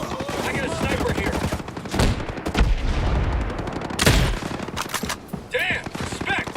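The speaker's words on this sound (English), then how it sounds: "Incoming sniper fire." Sniper rifle fire rings out in the tactical shooter Ghost Recon Breakpoint: several sharp, loud shots crack through dense, busy combat noise.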